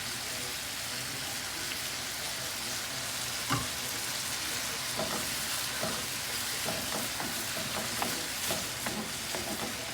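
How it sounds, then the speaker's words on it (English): Lamb and chili seasoning hit a pan already frying garlic and shallots for a steel-cut oat Chinese porridge, giving a dense, constant sizzle with scattered stirring scrapes and taps close by. "I'm going to start to add my lamb and chili seasoning in."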